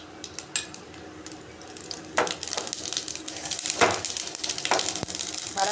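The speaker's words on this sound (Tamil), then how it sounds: "எண்ணெய் காஞ்சதுக்கப்புறம் இப்போ கடுகு சேர்த்துக்கலாம்." Mustard seeds sizzle in hot oil in a pan, a continuous crackle broken by sharp pops and a few utensil clinks and stirring scrapes, fairly quiet and close.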